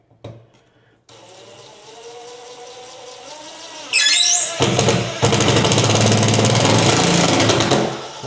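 A power drill drives a screw into a drywall or cement sheet patch, starting with a low whir that climbs into a loud, sustained grinding buzz, close and alone, with a brief stop midway.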